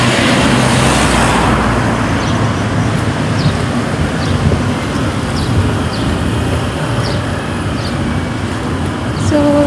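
Steady roar of traffic and a moving bus fills the air in a European street setting, loud and continuous, with wind and passing vehicles blending into a dense rumble.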